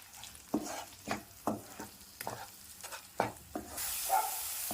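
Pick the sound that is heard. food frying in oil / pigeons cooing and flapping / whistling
food frying in oil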